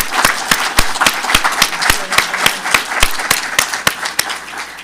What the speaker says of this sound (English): give David one last round of applause.